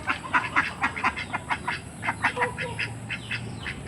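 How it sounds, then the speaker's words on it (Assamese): A small flock of village ducks quacks close by on a cloudy evening after rain, with rapid, evenly repeated nasal calls that overlap in a busy, continuous chorus. "এইকেইজনী হাঁহ"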